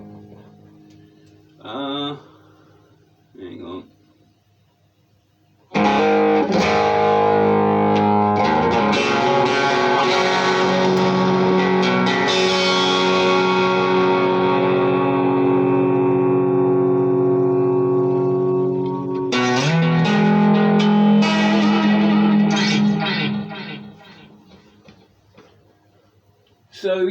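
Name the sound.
ESP 400 series electric guitar playing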